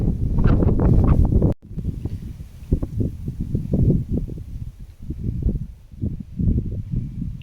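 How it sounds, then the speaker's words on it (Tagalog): Gusty wind on the mountain top of Kam Kui Shek Teng, Sai Kung, batters the microphone in bursts, a loud roar at first, then choppier buffeting that rises and falls. "Sobrang lakas ng hangin."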